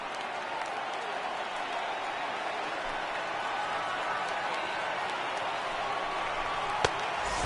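A packed baseball stadium crowd of over 39,000 roars and cheers on its feet in MLB The Show 18, a dense, steady wall of noise holding across the whole stretch with one sharp knock near the end.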